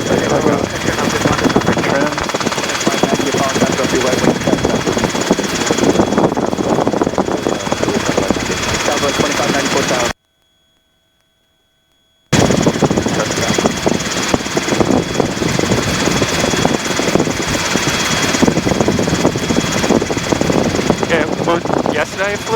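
A Robinson helicopter on a training flight drones loudly and continuously with rotor and engine noise from inside the cabin, cut by a couple of seconds of total silence midway, with a voice talking under the roar.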